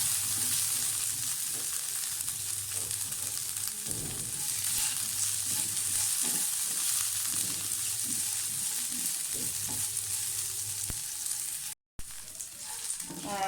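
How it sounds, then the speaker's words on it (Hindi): Almonds, thick-cut coconut and raisins fry in ghee with a soft, continuous sizzle and occasional stirring clinks, quiet and close, with a brief dropout near the end. "ये नट्स भी फ्राई हो गए हैं"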